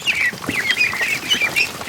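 Ducks near a gate give loud, close, overlapping quacks and calls in a continuous chattering flurry.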